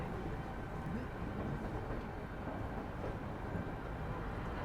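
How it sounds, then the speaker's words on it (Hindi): A WG9 electric locomotive shunts in a rail yard, its traction motors giving a steady, loud low rumble and drone that holds throughout with no clear breaks. "सामने देखो WG9 लोकोमोटिव यार्ड में अपना शंटिंग का काम करता हुआ। ट्रैक्शन मोटर्स का आप लोग साउंड सुनिए।"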